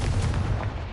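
Casting the Confringo spell in Hogwarts Legacy produces a loud, dense blast with heavy low-end rumble, one sustained booming burst lasting about a second, no talking.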